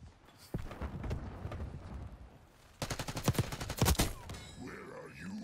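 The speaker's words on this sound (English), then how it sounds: "If this is an SMG, it's got no recoil." Submachine gun fire in Black Ops 6 rattles out in quick bursts of rapid shots amid busy game noise, with a voice speaking briefly.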